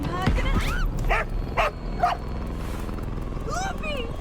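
A dog in the horror video game Enigma of Fear gives a few sharp yips and barks with rising whimpering whines, close and loud, while voices talk and react over it.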